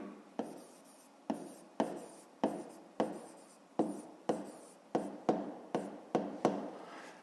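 Pen or pencil writing by hand on paper while solving a fifth-grade math exercise, a close series of about fifteen short scratching strokes in an uneven rhythm, each fading quickly, with no talk.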